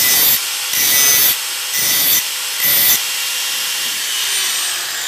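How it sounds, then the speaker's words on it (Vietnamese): A grinder takes burrs off a homemade steel bearing puller for motorcycle bearings in several short, harsh, hissing bursts, each separated by a brief pause, and then one longer steady pass. The sound is close and loud, with no talking. "Sau đó anh em và các bạn ta sẽ mài bớt những các cái ba vía để khi anh em bạn ta đóng vào cái vòng bi cho nó được dễ dàng."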